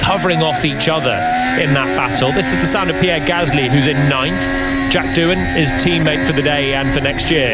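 Alpine Formula 1 race car engine screaming on track at the Abu Dhabi Grand Prix, a loud, continuous high-revving drone with shifting pitch, heard beneath steady radio commentary.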